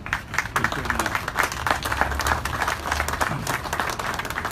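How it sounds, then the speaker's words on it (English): Applause from an audience at a police K-9 check presentation, a dense burst of clapping that holds steady for several seconds, fairly loud and alone. "give yourselves a round of applause for putting that"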